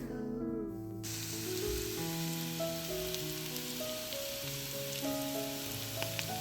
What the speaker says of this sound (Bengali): সকালবেলায় ফ্রোজেন কাঁকরোলগুলো জলে ভিজিয়ে রেখে গেছিলাম এখন এসে আলুর সাথে একটু ভেজে নিচ্ছি